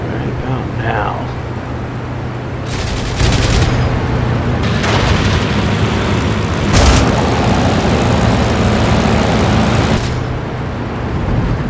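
Aircraft machine guns and cannon fire in bursts in the IL-2 Sturmovik flight sim during the final Achtung Spitfire mission. Two or three loud, rattling volleys break over a steady engine drone while someone talks.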